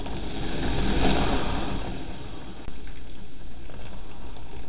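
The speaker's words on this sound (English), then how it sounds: "So let's pour this on" Full-sugar Coca-Cola is poured onto Grifter bicycle brake calipers, giving a close, steady fizzing hiss of liquid splashing and bubbling that swells, then eases and settles into a quieter continuous fizz.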